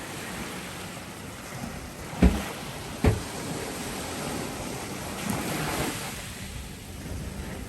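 Ocean waves wash continuously at a moderate distance, a steady soft surf roar with wind, broken by two short knocks near the microphone partway through.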